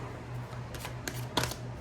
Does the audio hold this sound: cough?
no